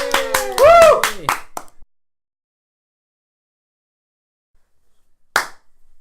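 A few people clap in a quick burst of sharp, close hand claps mixed with lively voices, followed by near silence and one final isolated clap.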